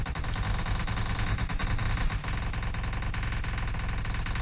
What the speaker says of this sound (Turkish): O kadar yoğun silah sesi var.